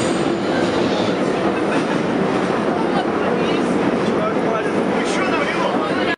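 A metro car rides through an underground tunnel on a Saturday evening, giving a loud, continuous rumble with rattling and clatter that cuts off abruptly at the end, with a voice speaking over it.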